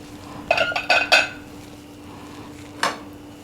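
A spoon scrapes and clinks against a pot of tomato sauce for pasta in a home kitchen, a quick cluster of metallic stirring knocks followed by a pause and one more clink, close and fairly loud with no talking.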